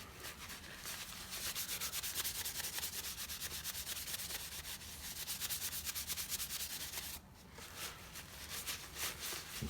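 Beeswax polish is buffed into timber with steady, rhythmic rubbing strokes, close and continuous with a brief dip in loudness near the end; there is no speech.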